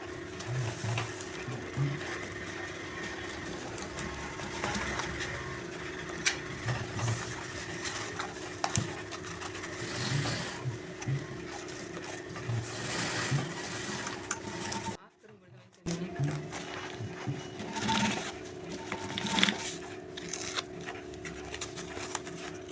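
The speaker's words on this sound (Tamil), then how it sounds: "ஒரு பக்கம் இந்த மாதிரி தைச்சாச்சு" A sewing machine stitches a jute bag with a steady, busy mechanical whir and rapid ticking, running almost continuously, dropping out briefly for about a second midway, with a voice speaking at times.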